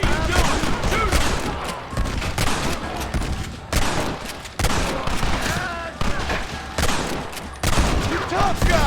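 A Red Dead Redemption shootout roars with dense, continuous gunfire, rapid overlapping shots and heavy booms crowding together, loud and close, with shouted voices mixed in.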